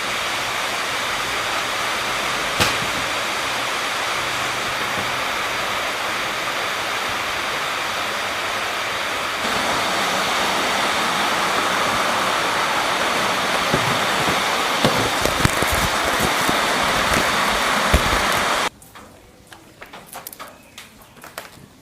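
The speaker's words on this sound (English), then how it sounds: "rain is slowly stopping" Heavy rain falls in a steady, dense wash for most of the clip, then drops away suddenly near the end, leaving faint drips and quiet background sound.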